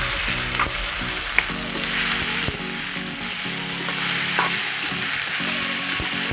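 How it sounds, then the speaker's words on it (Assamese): Sun-dried ulokochu pickle, salted and turmeric-coated, frying in oil: a loud, continuous close sizzle with a low hum and occasional stirring taps and clatter underneath. "এনেকৈ মই যে তেলত ভাজিছোঁ"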